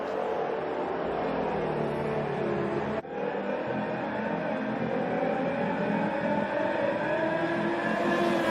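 Race car engines in an F1 video game, Williams among the field, droning steadily as cars pull away on the formation lap, a dense continuous whine with a brief dip partway through, rising slightly toward the end.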